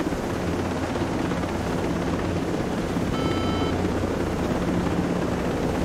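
A damaged, smoking helicopter in the Ghost Recon Breakpoint video game drones steadily with a loud, dense rotor and engine roar, unbroken and alone throughout.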